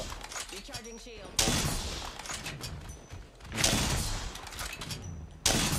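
Gunfire in the video game Hack Slayer comes as loud sharp bursts and rapid volleys at intervals, mixed with thuds and game noise, with a voice talking in between.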